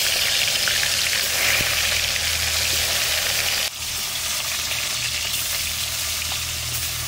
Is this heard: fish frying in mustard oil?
yes